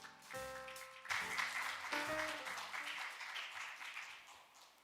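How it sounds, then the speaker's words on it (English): An audience at an academic workshop for African master's and doctoral students in Korea breaks into applause to welcome a PhD student presenter. The applause swells after a brief tonal passage and holds as steady, moderately loud clapping. "Please welcome him with a big round of applause."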